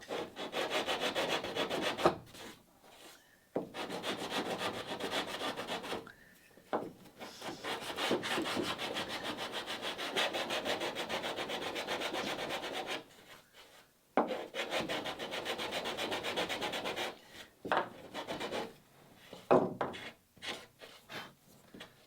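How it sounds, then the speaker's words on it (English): A hand-held piece of sanding belt rubs down the filled corners of a wooden Catalina Wherry rowing boat, long rasping strokes broken by short pauses, close and loud without talk. "I'm just grabbing just a piece of sanding belt here. And I just start working these corners down."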